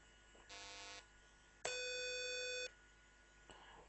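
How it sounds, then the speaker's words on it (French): Two distinct electronic beeps from a VB.NET program running on a computer: a short tone, a pause, then a longer sustained beep, both clear against a quiet background with no talk. "Donc là, il m'a fait deux bips."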